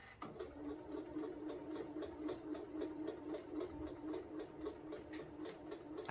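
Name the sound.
sewing machine sewing quilt placemat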